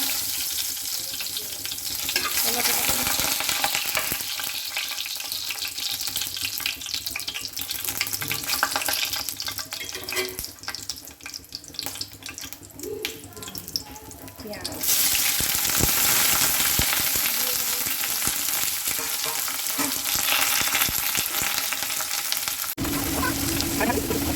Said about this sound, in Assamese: পিঁয়াজখিনি গল্ডেন ব্ৰাউন হোৱালৈকে ভাজি ল'লোঁ